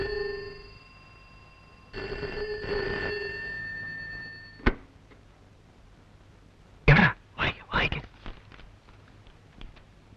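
A telephone rings in a Malayalam film scene, two clear electronic ring bursts sounding near and distinct, followed by a sharp click and then a few short louder knocks or handling sounds in an otherwise quiet room.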